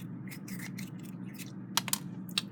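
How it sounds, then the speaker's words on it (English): An old, brittle gramophone reproducer diaphragm from a Columbia Grafonola No. 6 is crumpled by hand, giving dry crackling and snapping bursts over a low steady hum, with a few sharper cracks near the end. "Can I crumple it up in my hand?"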